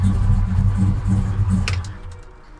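Engine of a 1965 Chevy Malibu SS with a 502 V8, idling up close with a lumpy, rhythmic low rumble that pulses several times before settling as a brief click sounds.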